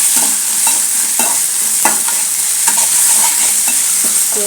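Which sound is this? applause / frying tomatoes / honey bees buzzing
frying tomatoes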